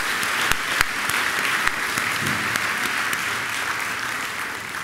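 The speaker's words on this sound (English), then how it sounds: "Can we give both our little Acorns and our seniors one more round of applause?" A school assembly applauds its little Acorns and seniors with a steady, sustained round of clapping from a large group, dense and even throughout with a few sharper individual claps standing out.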